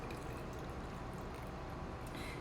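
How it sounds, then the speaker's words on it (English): Water is poured or trickled into a glue bottle to top it off, a steady, even splashing hiss that runs without a break and without voices. "we can just take that same glue bottle that I carelessly cast aside, very carefully top it off with some water"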